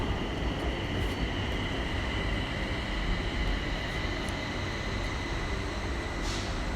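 An elevated BTS Skytrain in Thailand approaching a station gives a steady, loud, broad rumble that holds without pause from start to end, with faint high metallic hints near the close.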